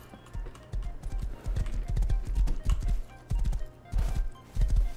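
Horse hooves clip-clopping in the survival video game Rust, a brisk, close, rhythmic run of hoof strikes in uneven bursts over low background hum.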